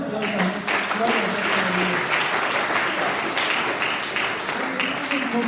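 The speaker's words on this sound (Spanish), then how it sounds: "Gloria a Dios, un fuerte aplauso." A church congregation claps loudly and steadily throughout, a dense, sustained round of applause at a Spanish-language service, with a voice speaking over it.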